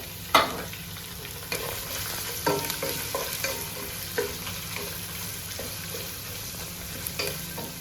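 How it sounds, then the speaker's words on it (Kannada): Onions fry in a hot pan for Hyderabadi chicken pulav, a steady close sizzle broken by regular scraping stirs of a spatula. "ಈಗ ನೀರುಳ್ಳಿ ಹಾಕ್ತಾಯಿದ್ದೀನಿ ನಾನು. ಒಳ್ಳೆ ಬ್ರೌನ್ ಕಲರ್ ಬರೋ ತನಕ ಫ್ರೈ ಮಾಡಬೇಕು."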